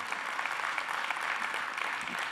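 A church congregation gives a round of hand claps during a sermon, an even, fairly distant wash of many hands, soft and continuous, without a voice over it.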